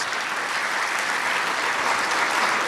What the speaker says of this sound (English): A round of applause for this remarkable accomplishment.